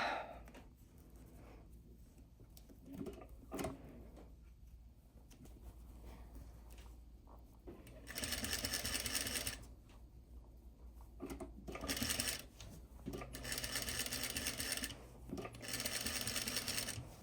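A sewing machine with a welting foot sews an invisible zipper onto a corded pillow in several short bursts of rapid stitching, separated by quiet pauses with small handling clicks; no talking.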